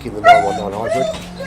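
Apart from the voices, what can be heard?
dog barking in the background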